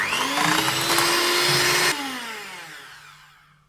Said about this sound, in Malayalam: ഇനി ചെറിയ സ്പീഡിലിട്ട് ഒന്നുകൂടെ ഒന്ന് മിക്സാക്കി കൊടുക്കുക.